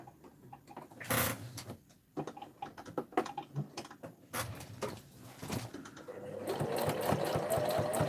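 Sewing machine stitching in quiet bursts, rapid mechanical chatter starting and stopping irregularly, ending in a longer continuous run with a faint whine, close and soft, with no speech.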